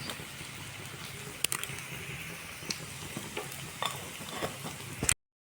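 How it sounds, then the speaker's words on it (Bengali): Cumin seeds sizzle in hot oil, a close, fairly quiet crackling hiss with scattered sharp pops, running steadily for about five seconds before cutting off. "তো তেল গরম হয়ে গেছে, আমি জিরা দিয়ে দেবো।"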